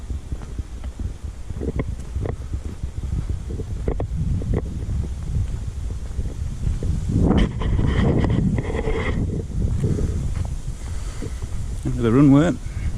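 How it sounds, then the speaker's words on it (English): Steady wind blowing across an open former WWII RAF airfield on a bright, breezy day, a broad rumble with buffeting on the microphone throughout, and a voice speaking briefly near the end. "It's a bit windy."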